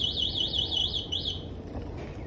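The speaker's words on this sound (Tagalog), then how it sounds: "naka-alarm pala siya." A scooter alarm chirps in a rapid, high warbling pattern about six times, then cuts off, leaving low background rumble.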